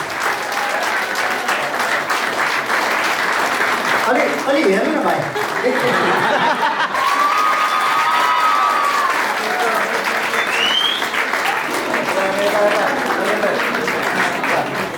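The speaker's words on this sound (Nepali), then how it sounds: "ताली बजाउनुपर्छ, कसेर ताली बजाइदिनु।" Wedding guests at a Nepali church wedding ceremony clap steadily and loudly in a dense, continuous wash of applause, with scattered chuckles and a voice speaking over it.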